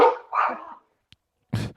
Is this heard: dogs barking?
yes